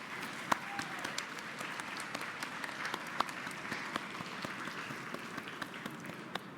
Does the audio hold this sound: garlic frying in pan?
no